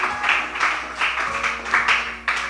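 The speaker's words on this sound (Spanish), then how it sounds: "¿Cuánto le dan el aplauso fuerte a Jesús?" A church congregation applauds Jesus, giving loud, rhythmic clapping in repeated bursts that fill the room.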